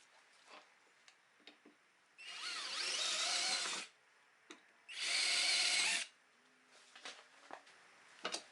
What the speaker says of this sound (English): I'm going to drill out these 2 holes first